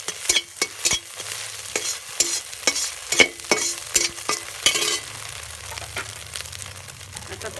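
Scrambled egg frying and stirred in a pan for dhaba-style fried rice: close, steady sizzling broken by rapid scraping strokes of the spoon, then easing to a softer sizzle with no talking.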